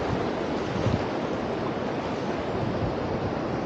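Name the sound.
strong water current and waves while swimming in Japan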